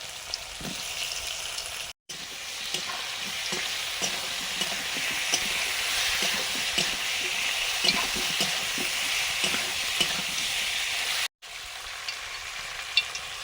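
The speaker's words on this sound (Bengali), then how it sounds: "সর্ষের তেল দিলাম, ঝালের আলুগুলো দিয়ে দিলাম।" Potatoes fry in mustard oil in a Bengali home kitchen with a dense, continuous sizzle and crackle, close and steady. Occasional stirring scrapes come through, and the sound cuts out briefly twice.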